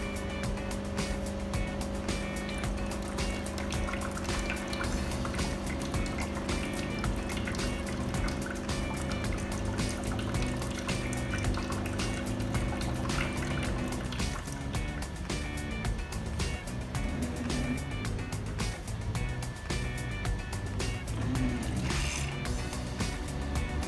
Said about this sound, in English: It will do automatic cleansing and rinsing of the brew system.